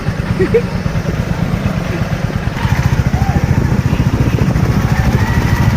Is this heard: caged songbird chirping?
no